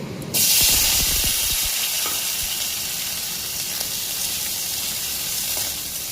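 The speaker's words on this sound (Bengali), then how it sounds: "আলুটা ভাজা হয়ে গেছে" Potatoes dropped into hot oil tempered with cumin, dried red chilli and bay leaf, bursting into a loud sudden sizzle that settles into a steady, close hiss with faint stirring.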